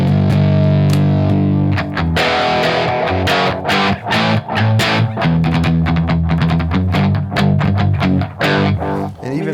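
Distorted electric guitar with the mids scooped around 800 Hz, run into a boost pedal, playing a rhythmic riff of chugging palm-muted stabs and chords, loud and close with no talking.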